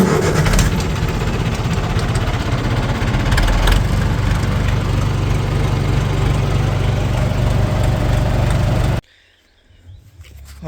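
Hay equipment engine starts and then idles loudly and steadily up close for about nine seconds before cutting off abruptly, with no talking.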